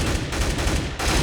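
Rapid tap-fired rifle shots in Counter-Strike: GO, loud and close, a dense run of reports with a brief break near the end before more firing.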